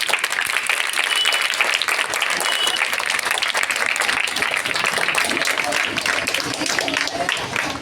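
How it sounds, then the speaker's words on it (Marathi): Audience applause at a school Janjatiya Gaurav Diwas event honoring Birsa Munda: dense, steady clapping from a crowd, loud and sustained throughout without a break. "जोरदार टाळ्या वाजवू द्या।"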